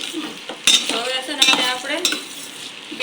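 Cooked rice for veg pulao stirred and fried on a hot tawa, with repeated scraping strokes of a spoon against the metal over a soft sizzle, close and fairly loud.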